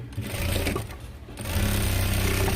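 A sewing machine stitches a blouse shoulder seam up close: a loud, fast mechanical whirr with rapid needle chatter that slows briefly, then runs steadily again, with no talking.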